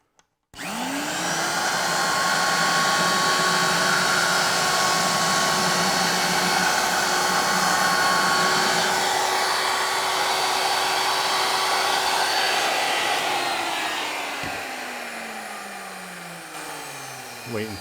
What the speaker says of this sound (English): you want to keep that router bit always moving